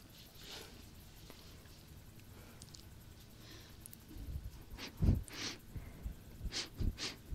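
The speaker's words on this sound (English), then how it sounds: "Get to sniff the human." Close, soft sniffing in an ASMR kitten role-play, with a quiet, breathy stretch at first and then a cluster of sharper, louder sniffs and snorts near the end.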